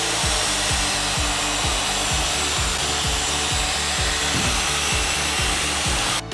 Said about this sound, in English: is mixing up ultralight mortar